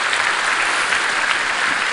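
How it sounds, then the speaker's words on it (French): Audience at a public talk with author Stephen King breaking into dense, steady applause, loud and continuous for the whole stretch with no voices over it. "Je pense que ça mérite encore des applaudissements,"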